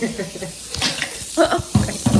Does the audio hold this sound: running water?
yes